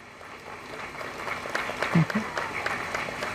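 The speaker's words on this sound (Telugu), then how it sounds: "ఆపేమని చప్పట్లు కొడుతున్నారు కాబోలు" An audience at a school gathering breaks into applause, a broad wash of clapping that swells and carries on steadily behind a speaker's voice in the hall.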